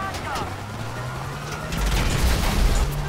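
Rapid bursts of Grand Theft Auto V gunfire crackle and thud amid engine rumble, with someone talking over the action.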